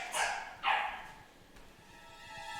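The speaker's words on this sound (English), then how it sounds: "There's a dog. You made the dog upset." A dog in a video game gives two quick, sharp barks in succession, fairly faint and alone against a quiet background.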